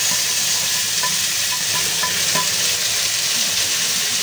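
Potatoes, carrots, bell pepper and celery sauté in a pan for a pork giniling dish, giving a constant bright sizzle with faint clicks from stirring throughout and no talking.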